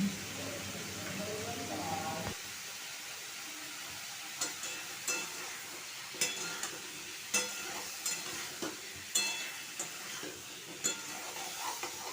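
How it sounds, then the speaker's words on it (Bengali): Potatoes seasoned with salt and turmeric sizzle gently in a pan for a banana-flower dish, with a steady fry at first, then quieter hissing broken by intermittent scraping clinks of a spatula stirring. "তারপর আমি আবারও খুব ভালোভাবে মিশিয়ে আলুগুলো আমি কষি নেব প্রথমে"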